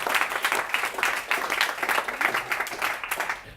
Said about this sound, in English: give a big round of applause to our speakers